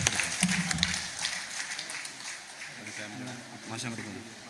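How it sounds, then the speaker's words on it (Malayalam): A crowd at a charity event claps steadily. Dense applause runs throughout and is loudest at the start, with voices mixed in. "ഒരു കൈയടിയോടെ നമുക്കത് കൊടുക്കാം"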